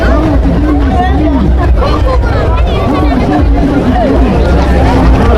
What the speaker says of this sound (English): And the crowd that follows the camels.